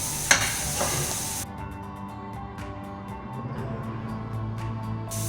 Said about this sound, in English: Saute it for a while.